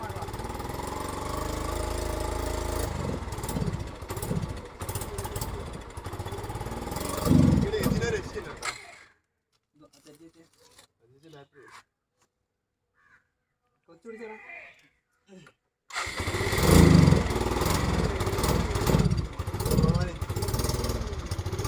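A Suzuki Gixxer motorcycle, unused for two years and with kerosene poured into its tank, runs after a cold start with a rough, close idle that cuts to near silence midway before resuming, voices talking over it.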